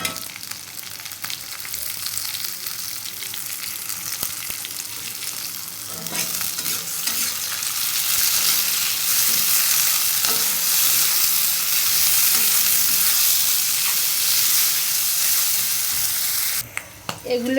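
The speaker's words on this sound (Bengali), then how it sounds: "এখন এর মধ্যে আমি চিংড়ি মাছগুলো দিয়ে দেব।" Prawns sizzling with onions in a pan for a Bengali lau shaak dish, a loud continuous fry with repeated stirring clatter and scraping, no one speaking over it.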